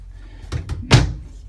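Cabinet doors in a 2020 Forest River Surveyor 296QBLE bunkhouse travel trailer swing shut: two quick light knocks followed by one louder, fuller slam close by, with no talking.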